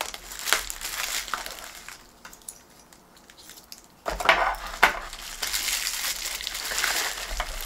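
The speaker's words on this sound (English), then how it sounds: "It's taped. So I'm gonna cut it with a knife." Knife cutting through taped bubble wrap packaging on a small Emerson CK2023 clock radio: close crinkling, tearing and scraping bursts, with a quiet pause midway before louder crackles resume.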